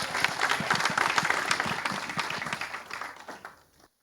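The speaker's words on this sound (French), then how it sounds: "Applaudissez pour vous." Audience applause at a comedy show at a laughter school: a steady burst of many hands clapping close by, holding strong for about three seconds before thinning and stopping abruptly.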